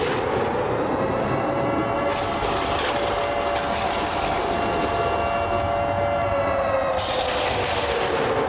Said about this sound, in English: Throw the siren up again.